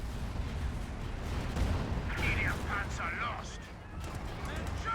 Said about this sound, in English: these guys have a bazooka, so the bazooka finished that off